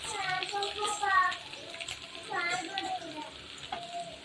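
Garlic and ginger drop into hot oil where mustard seeds have already popped, for lemon rice, giving a steady close sizzle and crackle under continuous talking.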